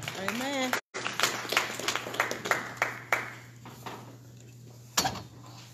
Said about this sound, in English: let's applaud and appreciate those that are leading us further